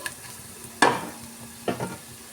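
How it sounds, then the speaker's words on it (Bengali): Spices and onion frying in a pan for a semolina and potato snack, heard as two brief scraping stirs over a faint sizzle, close and quiet. "সব মশলাগুলোকে আমি পেঁয়াজের সঙ্গে খুব ভালো করে ভেজে নেব"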